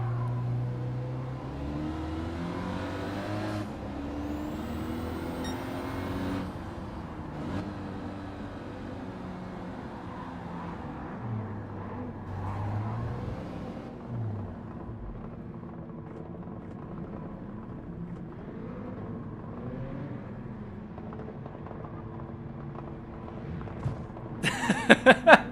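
Renault Clio pace car in Gran Turismo 7 driving, a steady engine drone with shifting revs and gear changes across a long stretch, fairly loud, ending with a burst of sharp clattering noise.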